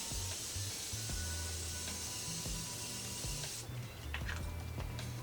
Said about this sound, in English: Now I'm gonna go in with the Morphe Settings Mist.